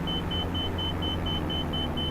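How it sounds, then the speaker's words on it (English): A small aircraft's warning alarm beeps in a steady repeating rhythm, nine short tones in quick succession over a constant loud engine and cabin rumble, with no voices. "What is that beeping?"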